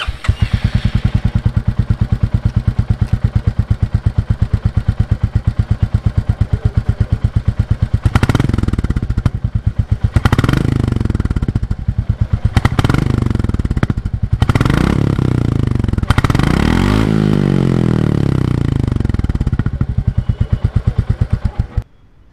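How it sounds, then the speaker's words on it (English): A 2021 Royal Enfield Classic 350 motorcycle sits close by at a steady thumping idle, then several loud throttle blips rev the single-cylinder exhaust up and back down before it settles and cuts off. "Let's check out the exhaust note of the all-new Classic 350."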